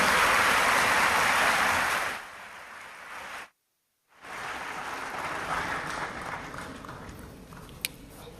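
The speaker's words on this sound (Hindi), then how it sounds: "एक बार जोरदार तालियां माननीय राष्ट्रपति महोदया के लिए।" Loud applause for the President at a national children's award ceremony, a dense roar of clapping that drops off after a couple of seconds and breaks into a short silence. Softer, steady clapping follows.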